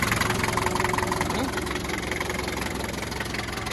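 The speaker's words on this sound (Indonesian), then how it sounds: "Itu ada knalpot, itu knalpotnya bocor." A 1990 Daihatsu Taft engine idling with a leaking exhaust, a steady, close, throbbing rumble with an even rhythm and no change in pace.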